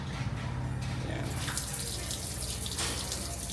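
Water runs from a household faucet near a washing machine, a strong continuous splashing rush heard close and unbroken throughout.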